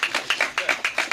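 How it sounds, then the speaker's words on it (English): Audience members at a police community meeting clap for community safety officers, producing sharp, evenly spaced claps in a quick repeating rhythm. "I want you to clap them, clap them."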